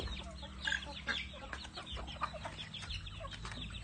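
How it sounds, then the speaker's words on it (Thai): Busy clucking from a group of chickens and ducks, a steady jumble of short calls over a low background rumble, moderately distant. "เป็ดไก่วุ่นวาย"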